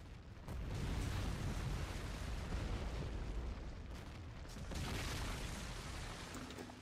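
A tank blowing up in the Empires mod game, a loud, sustained booming rumble that swells at the start, dips briefly, then surges again before fading, with no voices over it.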